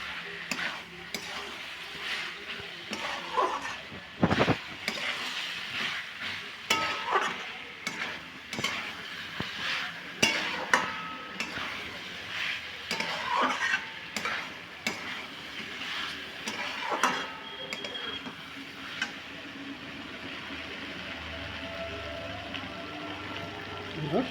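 Potato and soybean masala is stirred and sautéed in a pan until the oil separates, with repeated spoon scrapes and clacks over a soft sizzle, irregular and close, easing off toward the end without clear talking.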